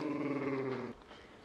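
A puppy growls in a low, sustained, rumbling tone close by, ending abruptly partway through, followed by quiet breathy noise.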